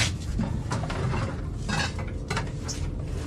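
A cooking pot, plates, spoons and glasses are handled while packing for an island spearfishing trip, giving a steady run of close clinks, knocks and scrapes of metal and crockery with no talk.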